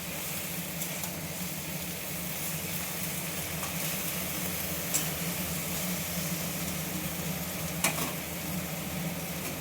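Leafy greens fry in a pan, giving a steady, moderate sizzle with a low continuous rumble and a couple of faint clinks from stirring.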